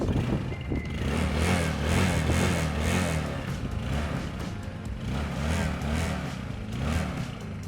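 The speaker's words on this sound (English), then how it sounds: "Well, quite a standard sound for a little quad." A small quad bike with a front drum brake and rear disc brake, its engine running in a steady, loud buzzing drone close by that rises and dips slightly, with no talking.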